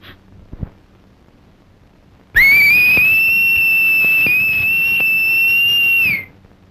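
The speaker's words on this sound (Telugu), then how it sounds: "ఈలు వేయటం నాకు మాత్రం ఇష్టమన్నా." A person whistles one loud, sustained piercing note that holds steady for about four seconds and then cuts off, alone in an otherwise quiet comic scene.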